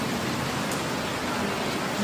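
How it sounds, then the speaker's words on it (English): Rain falls steadily outside in a continuous hiss of drops hitting surfaces, heavy enough to flood the ground, unbroken and even throughout. "It's raining outside. Look at that."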